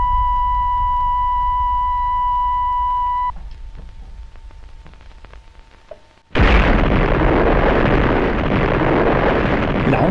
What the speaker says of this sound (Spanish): El arma más destructiva de la historia fue detonada por la Unión Soviética en un ensayo de 1961, la bomba del Zar, una bomba termonuclear de al menos 50 megatones.